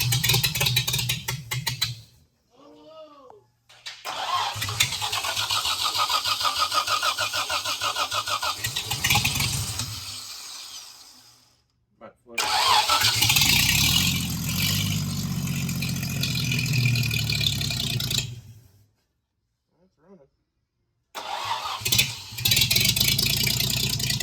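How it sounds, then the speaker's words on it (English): An original 1937 Chevrolet 216 inline-six engine cranks and catches several times, with short silent pauses between attempts, then settles into a rough, loud running rumble. "which he's about to fire up the motor"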